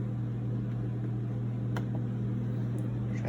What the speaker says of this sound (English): So we are going to turn this machine on to run.